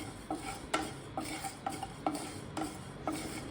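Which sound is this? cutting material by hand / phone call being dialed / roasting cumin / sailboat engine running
roasting cumin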